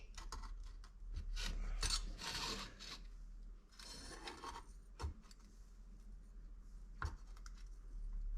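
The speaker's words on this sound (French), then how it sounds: "On va essayer de s'aider avec un petit tournevis pour voir." A small screwdriver pries at a Mazda RX8 headlight. Close, faint scraping and rasping plastic comes in bursts, with a few sharp clicks near the end, and no speech.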